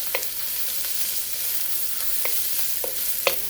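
Ginger and garlic fry in about two tablespoons of hot oil for Thai basil shrimp, a steady bright crackling sizzle with a few sharper pops and stirring clicks spread over the run.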